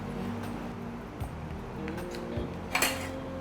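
Butter being mixed into a batter in a bowl, heard as a few scraping and clinking utensil strokes against the dish over a low steady background hum, fairly quiet.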